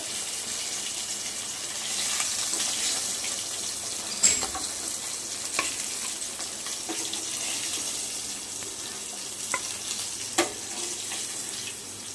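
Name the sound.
fish pieces frying in oil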